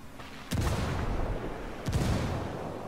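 Two heavy grenade blasts in the video game Ghost Recon Wildlands, sharp booms about a second and a half apart, each trailing off in a rumbling decay, with no talk over them.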